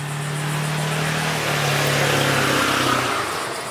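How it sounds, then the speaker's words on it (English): A car passes on a noisy street, its engine rising loud and close then fading under steady broadband traffic noise. "Got a noisy street."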